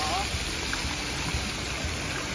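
Public water fountains in Lublin, Poland, where children play and splash, make a continuous broadband rush of falling and spraying water, steady and fairly close, with faint indistinct voices in the background.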